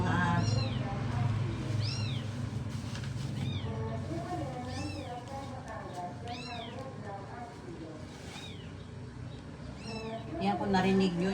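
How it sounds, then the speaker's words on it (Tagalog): Newborn kittens cry and meow repeatedly in high, rising calls, several voices close together, heard under a person talking throughout. "kung narinig nyo yung mga anak ng pusa, iyak ng iyak, kagabi pa yan."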